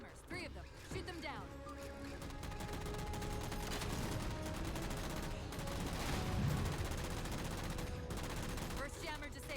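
Video game gunfire from Halo, aimed at destroying jammers: rapid bursts of shots and impacts piling up into dense, continuous firing, with a person talking over the combat.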